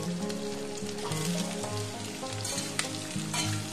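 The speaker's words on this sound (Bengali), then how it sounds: "এবার একটু ভালো করে ভেজে নেব নরম করে" Chopped snake gourd frying in oil in a pan, a steady close sizzle and crackle with soft stirring scrapes, running alone without talk.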